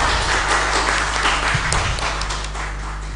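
An audience at a school olympiad final applauds a competing team, giving steady, dense clapping at full volume that tapers slightly toward the end, with no talking over it.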